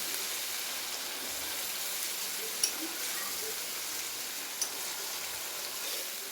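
Food sizzling steadily in a pan over a low gas flame while being sautéed, a constant soft crackling hiss with two faint clicks of a utensil, no talking.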